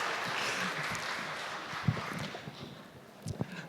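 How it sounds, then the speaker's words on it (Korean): A church congregation applauding after a prayer: a soft, diffuse patter of many hands clapping together, heard from across a large room and fairly faint, with a few louder claps standing out. "박수하겠습니다"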